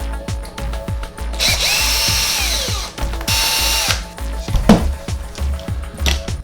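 A power driver works on the motor mount of an ARRMA Kraton RC basher car, giving two sustained whirring bursts with clicking and metallic rattles from the parts in between. The sound is close, with no talking.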